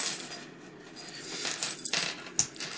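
Keys on a keychain carrying a small aluminium lock knife, shaken close by in a series of light metallic clinks and jingles with a few sharper chinks, no voices.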